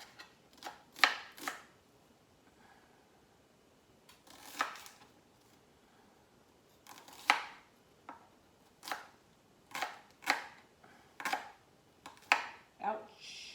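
A knife chops through a small baby garden onion on a board, sharp crisp cuts in quick clusters of two or three, close and distinct with quiet gaps between.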